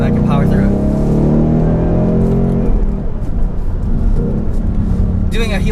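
A 2019 Ford Mustang GT 5.0 PP2 V8 held in a low gear on the twisting Tail of the Dragon mountain road; a loud, sustained engine drone rising and settling close by, with someone talking over it.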